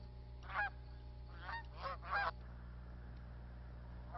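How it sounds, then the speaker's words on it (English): Resident Canada geese at a marsh refuge give several distant honks, some in short doubled calls, over a quiet steady background hum. "the resident Canada geese that no longer migrate to their northern breeding grounds to nest"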